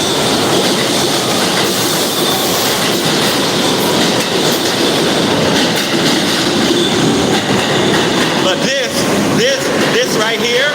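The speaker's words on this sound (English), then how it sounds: "There's a train coming in." A train rumbles past close by with loud, continuous clatter, and its wheels squeal near the end; voices are faintly mixed into the noise.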